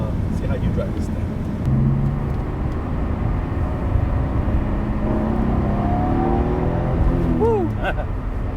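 A 1995 Nissan R33 GT-R with a turbocharged engine accelerates on a test drive, a continuous engine drone with rising whining turbo tones sweeping upward in the second half.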